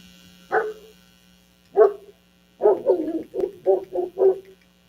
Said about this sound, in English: I don't know what them dogs are going on about.